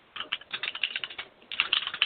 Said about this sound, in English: I just realized you guys could hear that. My bad. My bad. The intern. That's my keyboard.